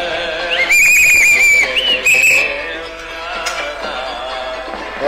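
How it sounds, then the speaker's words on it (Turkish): A loud, shrill referee-style whistle sounds as a final whistle, with one long warbling blast and a second shorter one, followed by quieter background sound on a Turkish television program. "Son 55 milyon adam olarak son düdüğü çalıyorum."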